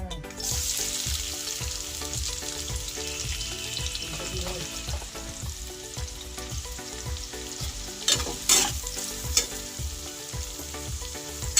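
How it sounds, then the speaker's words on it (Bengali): Chopped onions fry in hot oil in a wok, used just before for frying cauliflower, with a steady close sizzle under rhythmic scraping strokes of a stirring spoon and a few sharper clatters near the end. "পেঁয়াজটা দেখুন ভাজা ভাজা হয়ে গেছে"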